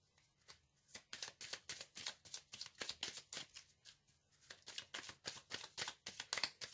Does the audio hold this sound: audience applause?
no